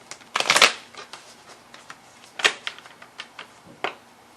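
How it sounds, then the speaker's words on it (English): Angel and ancestor oracle cards being shuffled by hand, two main riffling bursts with scattered soft flicks and taps between them, close and fairly quiet. "now I'm going to pull the angel and ancestor cards for you"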